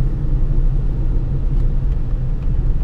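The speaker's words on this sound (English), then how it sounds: "So I'm going to accelerate up. Full speed, set my cruise" A silver 2017 Toyota RAV4 Hybrid XLE AWD accelerates, heard from inside as a steady low rumble of road and engine noise that stays loud and even throughout.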